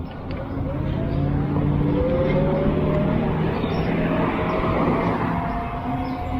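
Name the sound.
Lectric XP Lite ebike 300 watt motor climbing hill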